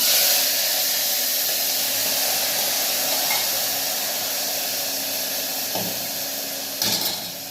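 Loud, steady hiss and sizzle of peas and potato curry vegetables hitting hot tempering oil with asafoetida, gradually settling, with a couple of brief knocks near the end.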